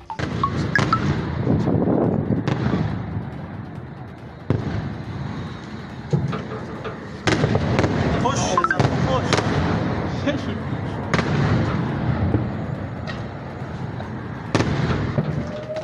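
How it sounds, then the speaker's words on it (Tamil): Missiles explode in the night sky during Iran's attack on Israel, a long run of booms and crackling bursts at irregular intervals, distant to mid-range, with voices in the background. "இதனால் வானில் பட்டாசு வெடிப்பது போன்ற ஏவுகணைகள் வெடித்துச் சிதறின."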